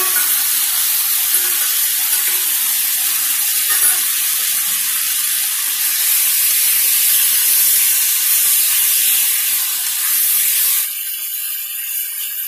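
Onion, garlic and carrot fry in a hot pot, giving a loud, continuous sizzle and hiss close by, with no talking, that drops somewhat quieter near the end.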